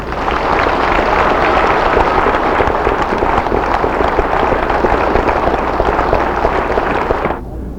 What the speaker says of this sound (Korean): 다짐하는 박수를 다 함께 하십시오